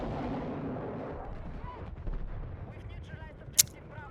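A mortar blast in Battlefield 6 rolls out as a loud, rumbling explosion that fades slowly, with a sharp crack near the end and a voice talking over the din.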